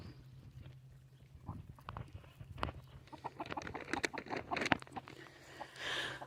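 A loose rooster among farm birds on a calm day gives soft, scattered clucks and scratchy pecking outdoors, faint and irregular, with no talking.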